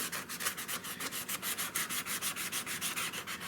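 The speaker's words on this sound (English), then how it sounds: "Now I'm just smoothing it up with some 150." Wood being smoothed with 150-grit sandpaper by hand, a fast, even rhythm of close raspy back-and-forth strokes repeating steadily about seven times a second, quiet and alone.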